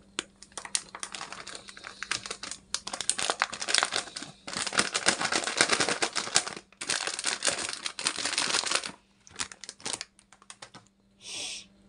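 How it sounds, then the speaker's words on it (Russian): Dry bread mix pours and rustles out of a crinkling bag into a bread machine pan in several long bursts, with short crackling pauses between, close and fairly loud. "И отправляем смесь из пакета полностью"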